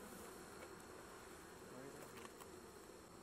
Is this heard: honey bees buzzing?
yes